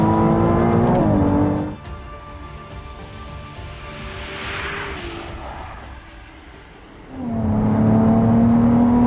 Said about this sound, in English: it'll carry on accelerating all the way to 205